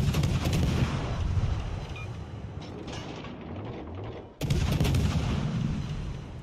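Warship guns fire shells in World of Warships Legends: a dense, continuous wall of booming naval gunfire and rumbling explosions, loud and close, with a brief drop near the end before the heavy barrage resumes.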